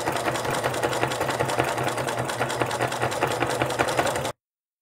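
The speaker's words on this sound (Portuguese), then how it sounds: "Vou fazer essa costura na máquina, mas ela também pode ser feita à mão." A sewing machine stitches fabric with acrylic batting layered underneath, its motor running steadily with a fast, even mechanical chatter for several seconds before stopping abruptly; no voices.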